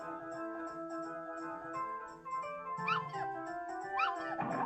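Puppies whimper and yip in the Earthworm Jim 2 video game, several short high whines rising over steady game music, with a denser cluster of cries near the end.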